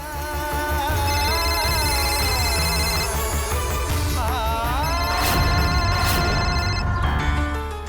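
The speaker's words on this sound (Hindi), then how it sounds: "बाबूजी के फोन हो।" A telephone rings indoors amid a Bhojpuri TV serial scene, with warbling electronic ringtone tones over a dense music bed, steady and moderately loud throughout with no talk.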